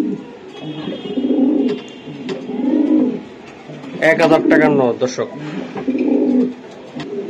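Racing pigeons of foreign breeding coo in a loft, with soft rolling coos repeating every second or two, close by, while someone talks over them partway through.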